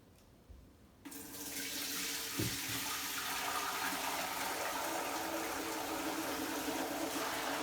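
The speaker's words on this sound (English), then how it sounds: "Now I pour this through a colander." Kombucha poured through a colander while bottling, a steady loud rush of liquid that starts abruptly after a second of near quiet and keeps splashing continuously to the end.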